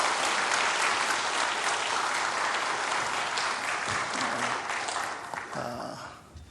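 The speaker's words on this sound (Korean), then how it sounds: "여러분 큰 박수로 환영을 해 주시기를 바랍니다" An audience in a Methodist church breaks into loud, sustained applause welcoming a pastor to the front, with dense clapping that gradually thins and fades toward the end.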